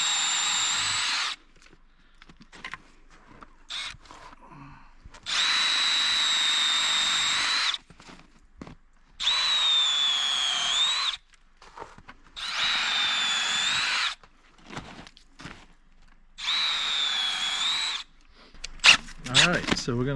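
A power drill whirs in five steady bursts of a few seconds each, drilling 1.5-inch-deep tap holes into a maple tree, separated by pauses with quieter handling noise and some talking.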